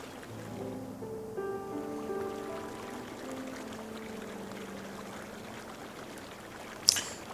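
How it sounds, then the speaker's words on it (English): A soft, steady rush of flowing brook water from the relaxing video game Babbling Brook runs beneath gentle melodic tones, ending with a sharp click near the close. "I just noticed that sound of the brook."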